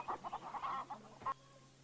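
Hens clucking in a run of short, quick calls under a steady background hum, fairly close, ending with one louder squawk.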